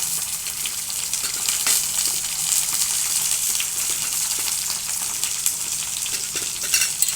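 Eggplant pieces dropped into a pan of deeply browned onions fry with a steady, loud hiss and crackle, a dense continuous sizzle close up with no voices.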